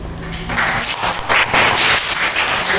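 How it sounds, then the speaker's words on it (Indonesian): Applause in a classroom during a lesson, a continuous wash of clapping that holds steady and fairly loud for the whole stretch, with no talking over it. "Masih di aplaus."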